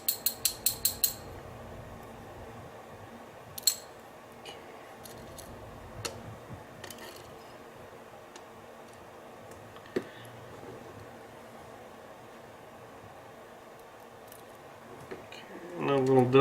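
Pins of a challenge lock being picked, with a quick burst of tiny metallic clicks at the start, then sparse soft ticks and taps over a quiet background, close up, rising into more clicking at the end.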